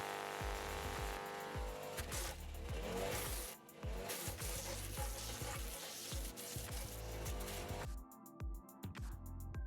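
A garden branch chipper's engine roars at full revs as thick branches are fed in, loud continuous grinding and shredding with repeated crunching bursts of wood being chewed into chips.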